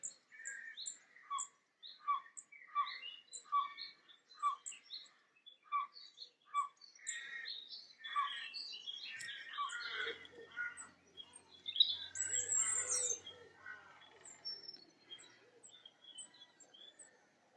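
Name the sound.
blackcap singing in a wood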